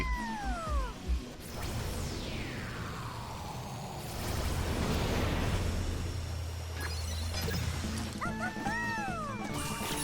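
A dog barks in the Astro Bot video game, heard in short yips among busy game music, whooshes and crashes, with a loud sustained stretch in the middle.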